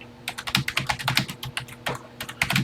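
Steady typing of a BASIC program on a Texas Instruments TI-99 computer keyboard, a continuous run of close, clacky keystrokes with an uneven rhythm over faint hum, with no talking.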